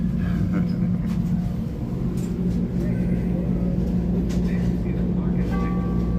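A constant low rumble from a train rolling past close by on a Chicago street, with faint squeals and clanks mixed into the steady roar.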